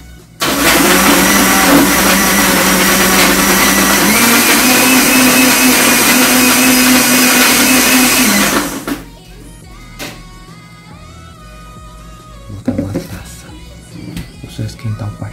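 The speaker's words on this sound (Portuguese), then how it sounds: "Vou fazer só um suquinho agora de abacaxi com hortelã. E tomara que ela não acorde com barulho do liquidificador." Kitchen blender whirring loudly and steadily for about eight seconds while making pineapple and mint juice, then cutting off abruptly, followed by quieter kitchen clatter.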